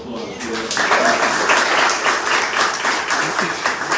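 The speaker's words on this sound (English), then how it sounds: "I think she deserves a nice round of applause." Audience applauding at a celebration held by a charity garage that repairs program cars, a steady dense wash of clapping from a crowd sustained throughout, with some voices mixed in.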